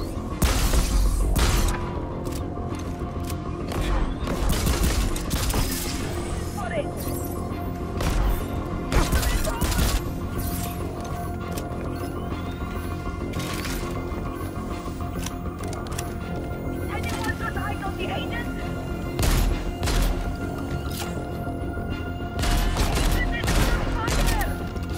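Charged shots from the Omni rifle fire in Crackdown 3 as a steady barrage of sharp, loud cracks and booms over a busy game backdrop, continuing for the full length.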